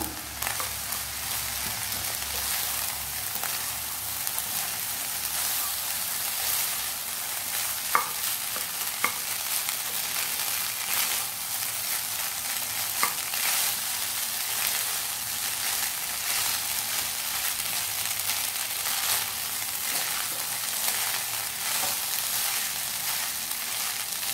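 Cooked rice being stirred and mixed into chicken fried rice in a hot pan, a constant loud sizzling hiss with scraping strokes and a few sharp spatula clicks, no voices.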